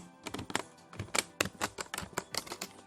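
Someone types on a computer keyboard to open MS Excel. The keystrokes come as a quick, irregular run of sharp, close clicks, heard alone without any talk.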